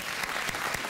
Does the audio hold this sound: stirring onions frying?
no